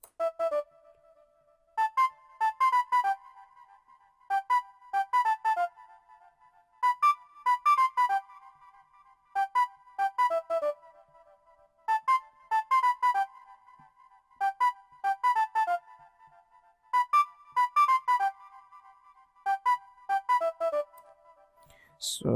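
Das Piccolo preset from the Nexus classical bank in FL Studio plays a short, bright plucked melodic pattern, repeating in regular bursts of quick notes with a pause between each phrase, clean and moderately quiet.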